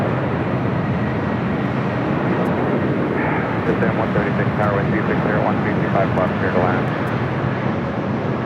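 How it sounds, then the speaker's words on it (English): An Air New Zealand Boeing 777 arriving on runway 25 left at LAX, heard as a steady loud roar of aircraft engine noise, with a commentator talking over it. "we got the All Blacks 777 arriving on the south side on 25 left"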